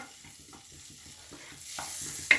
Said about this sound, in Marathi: आता त्यातच घालायचं आपल्याला एक चमचा जिरं जिरं छान फुल्लू द्यायचं आहे आपल्याला याच्यामध्ये